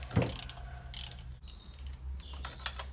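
A ratchet works loose the manifold bolts on a Ford Focus 1.6 diesel engine, giving close, irregular clicking bursts and metallic scraping, with brief pauses between strokes.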